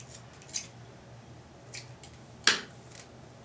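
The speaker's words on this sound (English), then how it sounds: "I'm gonna let it sit for a little bit longer while I cut the rest of these ends off" Scissors snip the ends of hair rope twists in a few quiet, separate cuts spaced through a calm, near background.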